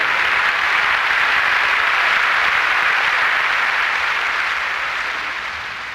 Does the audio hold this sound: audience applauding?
yes